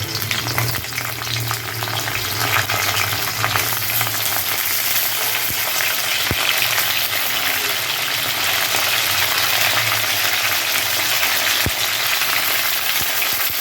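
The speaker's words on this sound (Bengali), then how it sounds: "এখন এই আলু আর পটলগুলো আমি ভেজে তুলে নেব, এটাকে ভালো করে একটু ভেজে নিব।" Potatoes and pointed gourd frying in hot mustard oil, a loud, dense, continuous sizzle and crackle close up, with occasional faint clicks of stirring; no speech.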